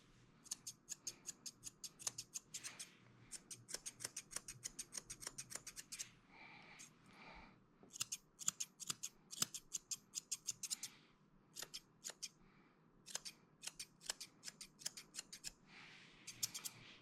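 Scissors snipping as a dog's face and mouth are trimmed short during grooming, quick rhythmic runs of crisp close clicks with brief pauses, faint and alone without talk.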